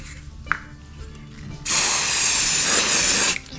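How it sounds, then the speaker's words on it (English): A steady aerosol spray, used with CA glue while building a birdhouse lamp, hisses loudly for nearly two seconds close by, after a quiet moment with a small click. "Spray that"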